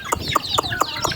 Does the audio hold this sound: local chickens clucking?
yes